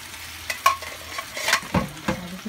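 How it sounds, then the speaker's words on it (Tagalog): Soup for Nagasaki sara udon is stirred in a pot at home, with a few distinct close clinks and scrapes of the utensil over a soft sizzling bed. "Kaya halo na niya yung soup na ginawa niya"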